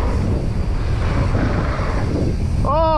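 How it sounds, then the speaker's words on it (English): Wind buffets the microphone at a bike park, a loud, rumbling, gusty roar with no break. A brief whistle or squeal comes in near the end. "Little bit of wind. Oh, a bit of wind."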